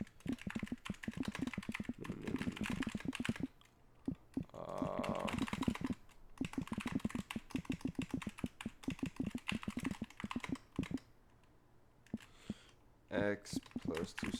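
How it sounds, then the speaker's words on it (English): Fast, steady typing on a computer keyboard, a dense run of close key clicks that pauses briefly a couple of times before resuming, while a person talks over parts of it. "let me type this out because I am a lot faster typer"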